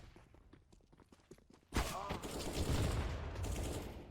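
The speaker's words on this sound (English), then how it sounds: "Great shot by TMB, however, Danny." A burst of gunfire in the CS:GO video game cuts in sharply after faint footsteps and game ambience, followed by loud, rapid shots that continue to the end during a match.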